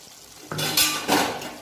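A spoon stirs garam masala into fish-head muri ghonto in a pan, with a few clinking, scraping strokes over a soft sizzle, close and fairly loud in short bursts.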